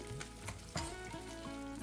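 Fish pieces coated with turmeric and salt sizzle steadily in hot oil, a soft continuous crackle with a few light scrapes from a utensil, heard up close and without talk.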